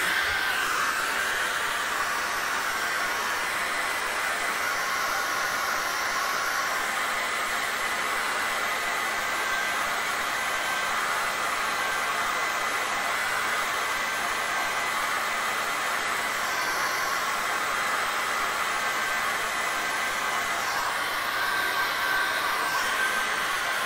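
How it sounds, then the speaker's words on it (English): A hairdryer blowing steadily and loudly close by, a constant whooshing hiss with slight shifts in tone. "So what we need to do is just get the hairdryer now."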